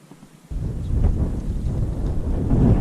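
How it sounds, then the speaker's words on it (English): Strong wind gusts outdoors on a brook trout fishing trip, rumbling and buffeting the microphone loudly after a brief quiet start and building steadily. "Yeah, it's a lot of wind."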